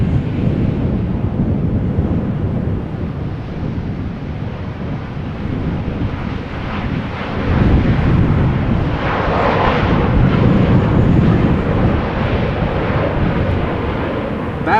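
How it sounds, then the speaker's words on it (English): A German Airways Embraer 190 jet airliner flying for KLM, returning from Bristol to Amsterdam Schiphol in storm conditions, rumbles continuously and swells louder in the second half, mixed with gusting wind noise on the microphone. "This is another German Airways Embraer 190 flying for KLM"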